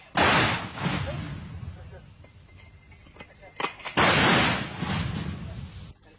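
Artillery guns fire during a Liberation War battle drill, two loud booming blasts with long rumbling decay separated by a few seconds, while a voice calls out nearby.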